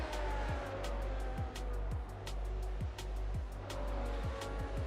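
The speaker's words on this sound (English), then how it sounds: "Krantz is right on the back of Wolford's gearbox as they exit the chicane and go down to the main straight here" Race cars in a Suzuka racing game roar down the main straight after the chicane, a loud, sustained engine drone with rhythmic pulsing and repeated gear-shift dips.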